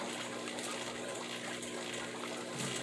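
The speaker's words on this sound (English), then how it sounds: "the addition of the green water, which you see all that mulm getting kicked up there" Green water pours into a Daphnia moina culture, a steady, full gushing splash that runs unbroken and fairly loud, with no talking.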